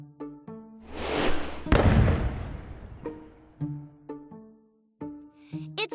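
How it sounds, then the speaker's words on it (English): Tonal game music plays while a whooshing firework launch in a kids' video game swells into a loud burst and crackling boom, then the jingle resumes. "Press the yellow circles to launch the fireworks you have earned!"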